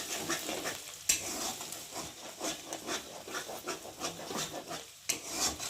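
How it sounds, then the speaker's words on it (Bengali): Steady scraping and sizzling as egg with turmeric fries in a pan, stirred into scrambled bits with repeated rubbing strokes of a utensil, close and continuous. "দিয়ে ডিমটাকে ভালো করে ভেজে নেবে, ঝুড়ো ঝুড়ো করে।"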